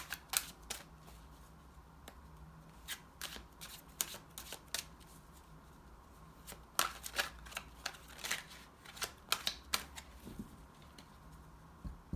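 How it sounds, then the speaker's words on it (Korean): Tarot cards are shuffled and drawn at close range, with quiet crisp snaps and flicks arriving in irregular bursts over a faint background hiss. "3번 카드 뽑으신 케이소울님이 이 기쁜 소식을 받은 뒤에 변화되는 이 모습 한 장만 더 뽑아보도록 할게요"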